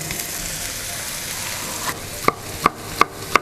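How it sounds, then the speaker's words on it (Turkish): Knife chopping celery root and capia pepper on a board, four sharp, evenly spaced chops near the end over a continuous sizzling pan of onion and garlic in the background. "Bu sırada kök sebzelerimden bir tanesi olan kerevizim kökleriyle doğrayacağım"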